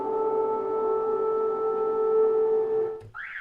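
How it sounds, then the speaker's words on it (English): A loud, steady electronic tone drones for about three seconds, then cuts to a rising warbling tone, like an alarm changing pattern. "That's a car alarm."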